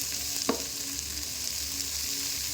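Flour roasting in a pan for a Punjabi bhindi dish, a steady soft frying hiss with one quick scrape of a spoon.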